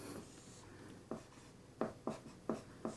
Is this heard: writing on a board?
yes